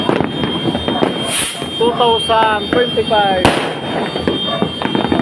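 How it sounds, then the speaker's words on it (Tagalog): Fireworks crackle and pop on New Year's Eve 2025, with a steady barrage of bursts and one sharp loud crack, while a person talks excitedly over the noise. "magagandang paputok natin ngayon"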